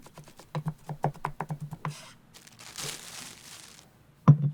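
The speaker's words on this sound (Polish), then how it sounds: "Drobno posiekaj pietruszkę." A knife finely chopping parsley on a board, a quick run of sharp close taps followed by a softer crinkling scrape and one final loud chop.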